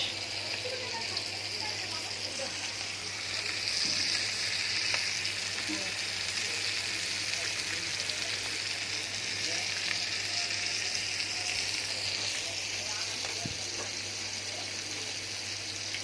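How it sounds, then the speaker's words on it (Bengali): Fish fries in a pan with a steady, close hiss and crackle that holds for the whole stretch without any break. "মাছ ভাজি বসিয়ে দিয়েছি"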